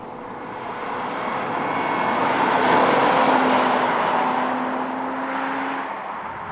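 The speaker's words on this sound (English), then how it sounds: "This Lexus IS 350 is fun to drive." A Lexus IS 350 drives along, its engine and road noise forming a steady, moderate hum that swells gently in the middle and holds a faint tonal drone before easing off.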